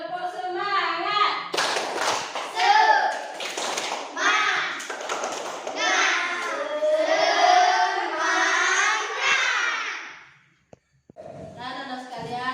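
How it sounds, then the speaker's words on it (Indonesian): Primary school pupils in an Indonesian Islamic religious education class stand for a rhythmic spirit clap. Bursts of patterned group clapping mix with the children's chanting voices, then break off into a short silence before the chant resumes. "Tepuk semangat."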